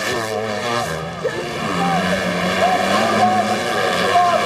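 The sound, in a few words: motocross bikes racing in MX2 race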